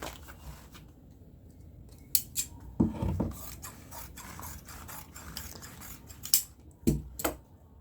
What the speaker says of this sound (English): So I'm done cutting them.